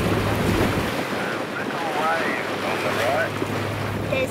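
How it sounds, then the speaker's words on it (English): Small ocean waves wash and break near a reef, heard from a sailboat under steady wind buffeting the microphone, a continuous rushing wash with faint bird-like chirps over it. "There's some little waves."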